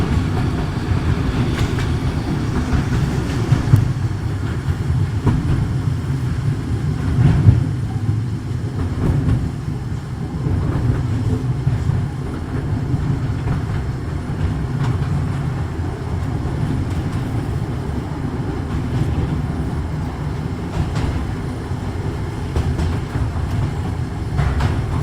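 The Mail Rail underground train runs steadily through a tunnel, a continuous low rumble with faint rail clatter and occasional clicks, loud and close throughout.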